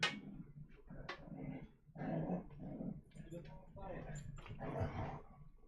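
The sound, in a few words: puppy whimpering and growling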